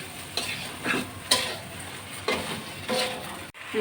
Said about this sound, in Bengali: মশলাটা দিয়ে আমি ভালো করে কষিয়ে নিচ্ছি